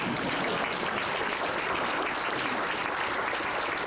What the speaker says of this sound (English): yes, you can clap, that's good